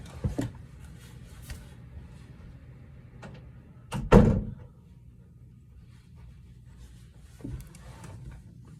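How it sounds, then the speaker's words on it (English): A single door thuds shut partway through, a short solid impact amid quiet room noise with faint knocks before and after. "I think I need to shut my door."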